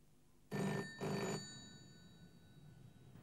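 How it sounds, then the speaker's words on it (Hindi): A home telephone bell ringing during dinner, two loud electronic ring bursts close by, each about half a second long with a short gap between them, then quiet room tone. "रोज इसी समय डिनर पे ये ब्लैंक कॉल आता है"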